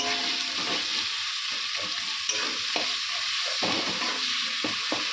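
Spices and two tomatoes fry in a pan on a home stove, giving a steady close sizzle with stirring scrapes breaking in at irregular intervals, and no talking.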